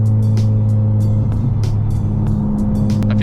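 A Honda Civic Type R FK8 with a Tomei catless titanium exhaust, a loud steady low drone close by, the engine holding a constant note without clear revving.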